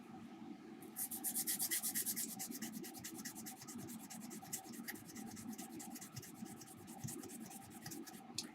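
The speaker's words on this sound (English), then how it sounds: "if we then switch to sanding pad, we're going to ensure that we get a flat grind" A sanding pad rubs back and forth over a copper trace on a circuit board, giving a quiet, fast rhythmic scratching that runs steadily throughout, close up and without speech.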